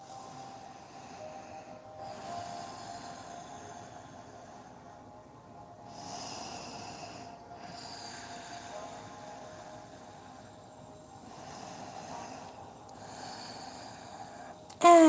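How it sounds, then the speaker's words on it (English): Long, deep yoga breaths rise and fall in slow, even cycles, each soft airy inhale and exhale swelling for a couple of seconds over a quiet room with a faint steady hum. "Taking long, deep breaths."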